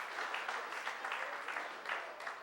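Applause at a youth sports team awards night for the Norman Northstars, a modest crowd clapping steadily and fairly quietly, as if heard from some distance, with no voices over it.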